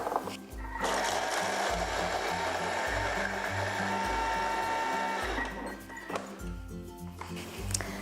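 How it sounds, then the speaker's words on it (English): A blender whirs steadily for several seconds with a rhythmic chopping pulse as it blends sugar and nuts, then cuts out briefly and starts up again. "So I've got some sugar and some nuts, which I'm going to put into my blender."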